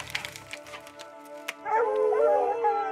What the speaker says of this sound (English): The dogs that are opening right now and the way they're acting.